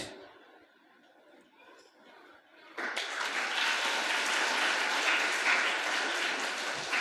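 Children at a magic show burst into sustained, dense clapping after a quieter stretch with a faint voice, and the applause stays loud and even to the end.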